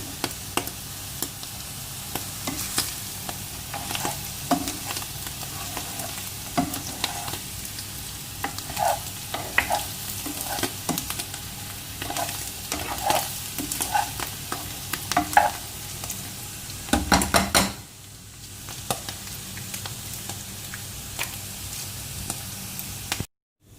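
Sausage, mushrooms and onions fry in a pan, giving a continuous close sizzle broken by scraping and stirring clatter. The sound briefly swells and then drops near the end.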